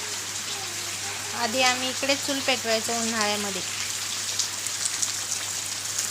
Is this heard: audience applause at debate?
no